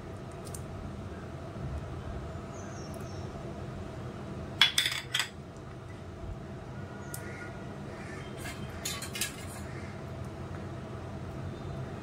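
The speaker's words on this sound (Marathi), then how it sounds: "आपण जे साईडला पेरूचे तुकडे ठेवले होते ते मी आता मिक्स करते" A spoon folds guava pieces into homemade guava ice cream mixture in a bowl, giving a faint stirring hush with a brief cluster of light clinks and scrapes partway through.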